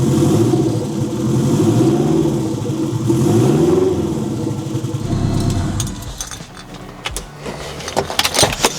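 A car engine, a Subaru engine swapped into a Mazda Miata, rumbles steadily at idle for several seconds, then gives a few sharp revs, loud and close.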